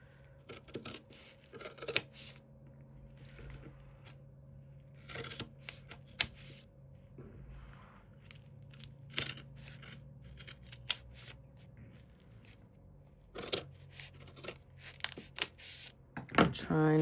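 Scissors snipping through fabric scraps for a hand-stitched textile bowl: scattered quiet cuts and clicks spread irregularly across a hushed room, with soft handling noises and a faint low hum between them.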